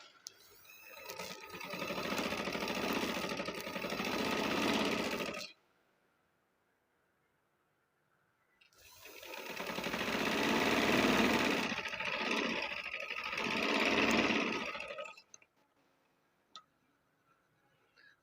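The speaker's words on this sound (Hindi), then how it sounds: "अब इस पर मैं सिलाई लगाऊंगी।" A domestic sewing machine stitches fabric for a child's trouser in two long continuous runs of steady mechanical whirring, separated by a quiet pause, followed by a few faint clicks.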